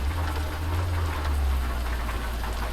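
Steady rain hisses loudly and evenly over a low engine rumble of a Fiat Doblo in Euro Truck Simulator 2, with no talking.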